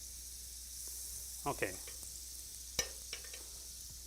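Butter sizzling in a hot pan as egg-soaked bread fries for breakfast toast, a faint steady hiss with a few soft clinks and scrapes of a utensil, plus a brief spoken word.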